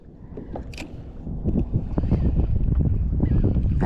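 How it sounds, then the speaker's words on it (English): Wind rushes and buffets across a small fishing boat on shallow inshore flats. The gusty roar grows steadily louder, with scattered thumps and knocks from the hull and gear. "That wind is starting to get a little bit more."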